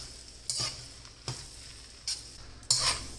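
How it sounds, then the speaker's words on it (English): Noodles and vegetables tossed with soy sauce and shaoxing wine in a pan, giving a soft steady sizzle broken by a few sharp scraping, clinking strokes of a utensil. "we're going to add it to the veg and the noodles and toss it"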